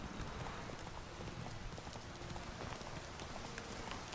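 Horse hooves clip-clop at a steady trot in rain in The Witcher 3, a close, continuous rhythmic clatter over a soft hiss of rainfall.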